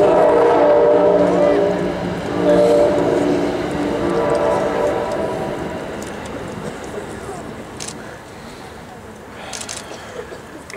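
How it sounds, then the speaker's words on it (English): A train passes near an outdoor vigil, its heavy rumble loud at first and slowly fading over several seconds, with a few sharp metallic accents near the end. "We're just going to wait for 1 minute while the train passes."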